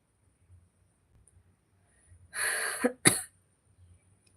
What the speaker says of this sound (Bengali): মাঝে মাঝে একটু কাশি হচ্ছে